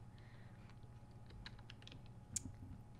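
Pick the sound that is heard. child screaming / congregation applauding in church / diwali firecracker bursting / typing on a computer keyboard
typing on a computer keyboard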